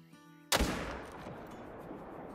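A single hunting rifle shot in Call of the Wild on a Mississippi whitetail hunt, a sudden loud crack after quiet ambience, followed by a long rolling echo that slowly fades.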